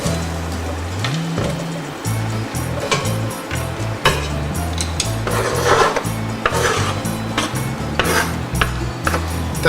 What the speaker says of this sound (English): what I'm going to go ahead and do is add our onions.